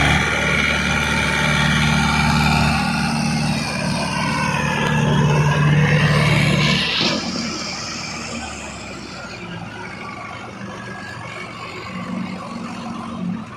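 A puddling tractor's engine works hard while it tries to pull a stuck crane tractor, a continuous mid-pitched diesel drone that swells and strains, then eases off to a lower idle, with some outdoor noise around it.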